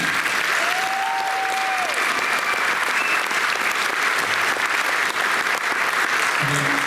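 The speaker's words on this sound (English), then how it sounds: "one more applause for those ladies" Audience applause fills the hall after a show choir number at an alumni celebration showtime concert, a dense, steady wash of clapping that holds at full strength throughout, with a brief whistle-like tone early on.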